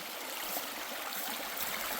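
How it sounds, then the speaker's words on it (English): A creek along the Pinhoti Trail flows in a soft, steady hiss and burble of running water, fairly faint and even throughout, with no voices. "I've got to cross this creek upstream somehow, somewhere."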